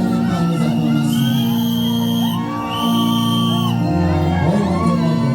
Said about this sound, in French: Est-ce que nous pouvons l'accompagner par une acclamation?